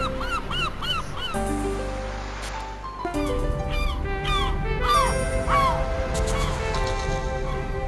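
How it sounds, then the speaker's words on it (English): Seagull calls in the Pier Solar video game, a run of repeated squawking cries in quick bursts over chiptune-style game music, fairly clear and close. "Looks like the seagull's making away with his lunch."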